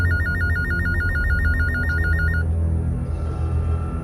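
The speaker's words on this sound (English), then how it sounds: "A phone call woke me up." A telephone rings with a rapid, regular electronic trill for about two and a half seconds, then stops, leaving a quiet room hum.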